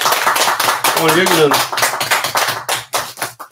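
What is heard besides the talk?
audience clapping at an online lecture opening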